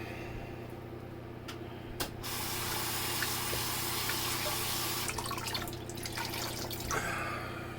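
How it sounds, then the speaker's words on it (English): Tap water running into a bathroom sink during a wet shave with a Rockwell 6C safety razor, a steady hiss and splash that grows louder and fuller partway through, heard alone without talk. "Sorry about the running water"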